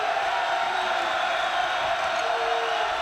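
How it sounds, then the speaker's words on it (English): A basketball arena crowd at Nebraska against Michigan State roars after a three-pointer, a sustained dense wall of cheering and shouting that holds steady and fairly loud throughout. "that brings the crowd collectively to their feet"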